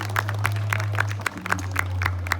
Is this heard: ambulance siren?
no